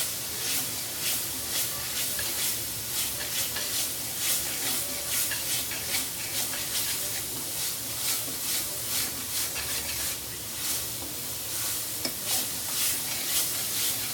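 Garlic paste sautés in a pan for a home-style peas and paneer curry, hissing and sizzling steadily with repeated scraping stir strokes. Close and continuous throughout, with no talking.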